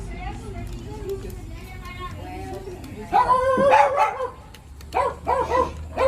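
A dog barks in a dog-friendly spot in Marbella, with a few sharp yaps and whimpers breaking in near the end while people talk steadily throughout.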